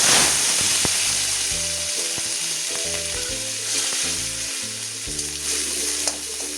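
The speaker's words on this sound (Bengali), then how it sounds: "এবারে চিংড়ি মাছের মাথাটা ভেজে নেব আগে।" Prawn heads frying in hot oil in a wok give off a loud, steady sizzle that runs the whole time, with a low humming tone underneath and no talking.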